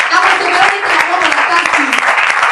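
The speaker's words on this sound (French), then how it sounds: "J'aimerais que tu acclames" A church congregation applauds loudly and continuously, a dense close wash of clapping with voices cheering and calling out throughout.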